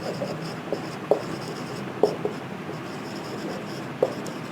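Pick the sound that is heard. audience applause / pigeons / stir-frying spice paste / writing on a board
writing on a board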